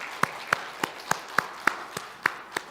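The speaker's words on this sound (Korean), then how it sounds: "미리 땡겨서 오늘 우리 다 잘했다고는 의미에서 박수 한번 하겠습니다" Church congregation clapping in a slow, even rhythm, about nine distinct claps spaced roughly a third of a second apart, fairly faint over a quiet room.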